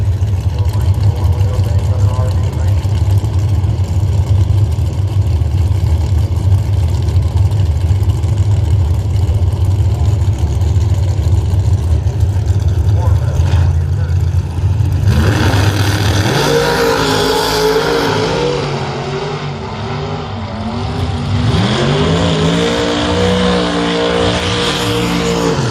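Chevrolet Camaro drag racing at London Dragway: a loud, sustained engine roar holds steady, then climbs and sweeps through rising revs as the cars launch and pass, with a deep rumble underneath.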